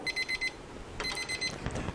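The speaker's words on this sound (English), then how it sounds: "I'm going to set that timer for another 5 minutes" A kitchen timer alarm goes off after five minutes, giving quick repeated electronic beeps in a rapid pulsing pattern, then a second burst amid some soft clatter.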